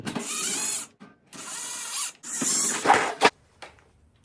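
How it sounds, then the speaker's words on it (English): A power drill with a 5/16 bit backs screws out of a Viking beverage center, three whirring bursts of about a second each with short pauses, then a brief ratcheting click, nearby and alone. "You need a 5/16 drill bit"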